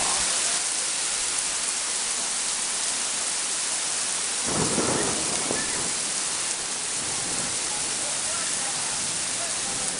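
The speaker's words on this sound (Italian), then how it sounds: "Che pioggia!" Dense, roaring rain fills a summer thunderstorm in Quartu Sant'Elena, a loud continuous hiss with a rumble of thunder swelling near the middle and a voice speaking briefly.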